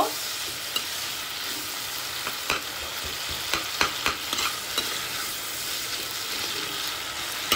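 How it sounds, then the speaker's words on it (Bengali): Chopped onion fries in a pan for a prawn, potato and papaya curry, giving a continuous sizzle broken by repeated scraping and clinking as a utensil stirs it close by, with no voices. "পেঁয়াজটা দিয়েও আমি একটু ভাজা ভাজা করে নেব।"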